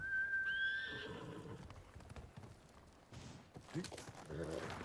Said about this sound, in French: Tu es un bon cheval.